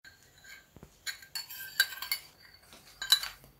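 A metal spoon clinks and scrapes against a bowl in light, irregular taps while stirring desi ghee mixed with yellow food colour dissolved in a little water.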